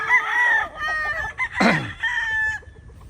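Chickens raised in an outdoor range pen call steadily, and a loud rooster-like crow rises in the middle before the clucking and peeping carry on.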